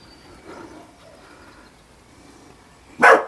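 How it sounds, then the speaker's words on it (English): A dog or two in a garden lets out a single loud, sharp bark near the end, after a quiet stretch of faint outdoor background. "a noisy dog or two"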